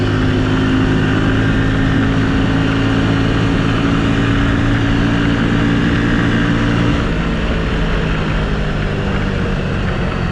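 A Honda Super Cub motorcycle at top speed, around 85 km/h, with a steady loud engine drone and heavy wind rush that stays constant throughout, no talking.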